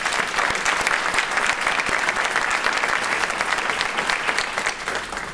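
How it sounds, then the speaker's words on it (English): Loud, sustained applause from a sizable crowd at a civic launch event, steady clapping throughout that eases off slightly at the end. "Let's give the folks a round of applause for the work that they've done."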